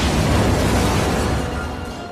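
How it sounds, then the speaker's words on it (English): A house blows up in The Shining mini-series: a loud, dense explosive roar with deep rumble, sustained and slowly fading over about two seconds, with no voices. "resulting in Jack sacrificing himself by blowing up the house"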